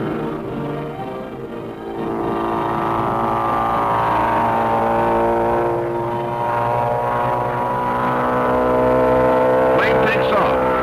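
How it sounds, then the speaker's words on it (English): A radio-controlled target plane with an air-cooled engine taking off on a dolly at a desert antiaircraft range, a steady droning engine hum that swells and holds loud throughout, with a voice talking over it. "Plane takes off, supported by a dolly, until it reaches airspeed."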